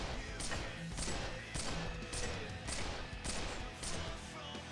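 Steady rapid weapon fire in Swat 4, a regular series of about eight loud, evenly spaced shots over a continuous gunfire wash, close and dominant.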